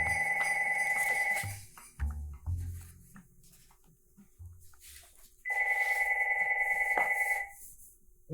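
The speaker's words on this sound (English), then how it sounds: "When you talk to Marshall Rauch, you end up getting pretty good at ignoring the sound of a ringing phone." A landline-style telephone rings in two loud bursts separated by a pause, with some faint background rustle and clicks between rings.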